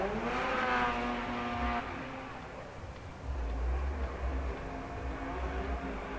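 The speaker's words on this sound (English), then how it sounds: "Frederick Osbo throwing it in the first turn 9" A Scion tC drift car at the Formula Drift street course in Long Beach, 2012, accelerates through a turn. Its engine revs high and then drops into a steady roar, with a low rumble later amid crowd noise and an announcer talking.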